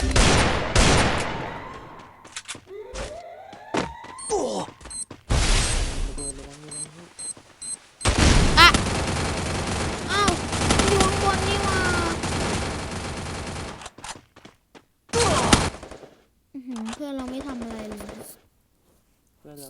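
Rapid bursts of gunfire in the Free Fire video game, with loud automatic volleys and scattered single shots in uneven clusters separated by short gaps, mixed with game effects and talking voices.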